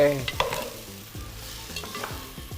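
Onion, ginger, garlic and spices frying for a chicken curry, steady sizzle with repeated spoon scrapes and stirring clinks against the pan, close and moderately loud, no talking.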